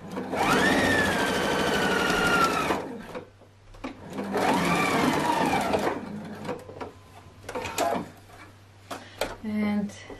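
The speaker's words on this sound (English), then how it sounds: "I always put needle in and put this down and then start back up and start the sewing." A sewing machine stitching a dress whirs in two sustained runs, then in shorter bursts as the fabric is adjusted, close and fairly loud, while a person talks at times.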